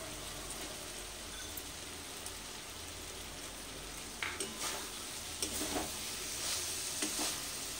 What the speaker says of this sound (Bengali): ক্যাপসিকামটা দিয়ে 2 মিনিট আবার কষে নিলাম।